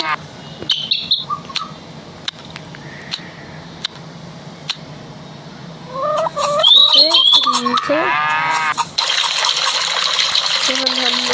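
Tap water rushes steadily as hands are washed, a close broadband splash in the last few seconds, after a stretch of chirping birds and voices talking.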